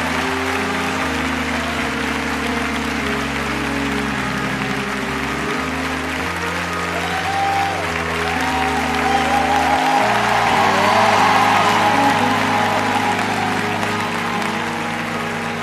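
An audience at a gospel event applauds and cheers for a gospel singer, with sustained loud clapping and crowd noise over low organ chords. The applause swells toward the end.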